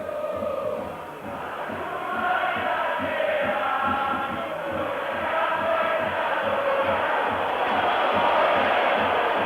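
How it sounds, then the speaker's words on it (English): Italian football crowd at AS Roma v Dundee United, a European Cup semi-final second leg, rumbling with steady displeasure, a dense continuous roar of many voices that swells after the first couple of seconds and stays loud throughout. "the Italian crowd don't like it"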